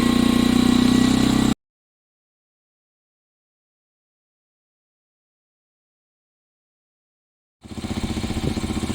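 A Yamaha XT 125 R motorcycle engine idles steadily as it warms up, with a loud, even, close running sound at the start, then a long silence, then the same idle returning near the end.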